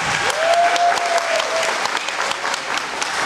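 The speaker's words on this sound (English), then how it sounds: "Another round of applause, please." Steady applause from a crowd at a music performance showcase, dense clapping that stays loud throughout with a faint high whistle rising over it early on.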